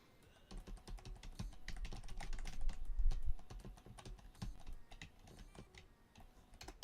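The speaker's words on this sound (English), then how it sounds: "I don't know how loud I hope the keys aren't loud." Computer keyboard keys typed in quick, uneven bursts during a live stream, close and fairly loud, with brief pauses between flurries and no talking.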